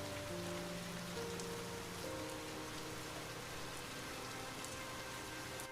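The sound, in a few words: rain falling in a story sound effect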